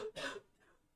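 A single harsh cough bursts out near the start on a live day-trading floor, then trails off into quiet breathing, fairly faint and close.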